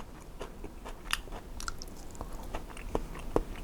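Close, quiet chewing of Russian salted pickled fish, with soft wet bites and a few sharper smacking clicks, spaced irregularly, with no talking.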